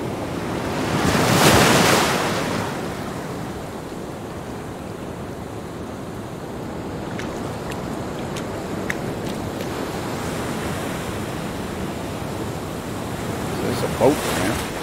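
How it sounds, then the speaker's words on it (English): Steady surf washing onto the beach at Hull Bay, St Thomas, with wind buffeting the microphone; the waves swell louder early on and roll on continuously without talk. "This is a beautiful beach."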